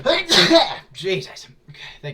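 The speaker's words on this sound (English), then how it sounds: "I think I might be about to sneeze." A single loud, explosive human sneeze bursts out at the start, then a voice speaks briefly after it.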